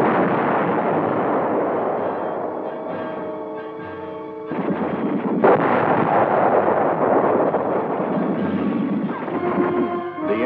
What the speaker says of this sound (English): the tanks meet heavy fire from enemy tanks and anti-tank guns